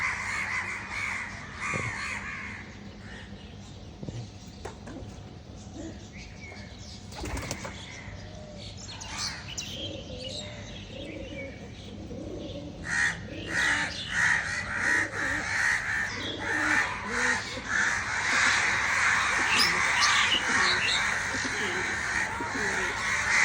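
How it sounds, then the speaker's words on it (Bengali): Pigeons released from a cage flutter and flap their wings in bursts, with crow-like caws and other bird calls around, growing busier toward the end; someone talks at times. "কবুতরগুলো কিছু কবুতর ছাড়ছি, এই যে ওরা কতগুলো নামছে, কতগুলো উঠতেছে।"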